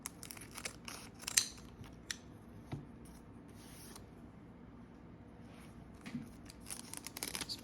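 Scissors snip at a Pokemon booster pack in several quiet, close cuts, with soft rustling and crinkling of the foil wrapper in between.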